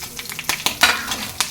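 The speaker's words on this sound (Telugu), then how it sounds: "ఇప్పుడు పచ్చిమిరపకాయలు వేసేసుకోవాలి." Green chillies drop into hot tempering oil for a chana dal and coconut curry, giving bursts of loud, crackling sizzle with stirring scrapes, close up and with no talk.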